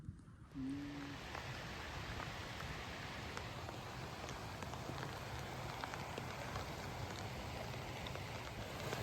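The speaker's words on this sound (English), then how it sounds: "We've got a bit of sleet and hail," Sleet and hail falling steadily on open moorland beside a track near Black Clough, a continuous fine pattering hiss that stays even throughout with no voices.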